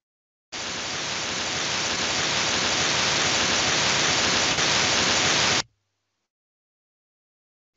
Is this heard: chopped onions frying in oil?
no